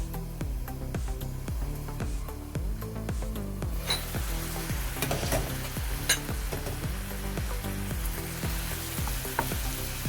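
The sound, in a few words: meat frying for chicken menudo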